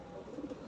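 A racer pigeon that is moulting gives a soft, low, throaty coo in a few rolling pulses, faint and close, with no talking.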